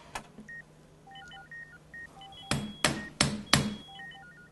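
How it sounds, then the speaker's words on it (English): Three loud, evenly spaced hammer blows as a sound effect in a Carpet Express commercial spot, preceded by a string of beeping telephone keypad tones. "Hammer."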